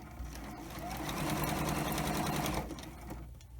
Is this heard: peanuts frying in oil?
no